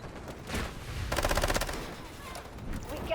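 An MP7 fires unscoped in the shooter game Delta Force with a rapid, tightly spaced burst of automatic shots, loud and close, while other game sounds and a voice surround it.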